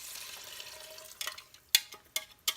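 Water mixed with a packet of onion soup mix is poured into a pan for beef stew, heard as a faint trickle that ends in a few sharp splashes and clinks near the end.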